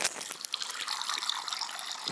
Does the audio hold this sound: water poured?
yes